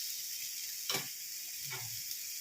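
Chicken sizzling on a hot tawa, a constant bright frying hiss with a scrape and soft thud as a piece is flipped, heard close.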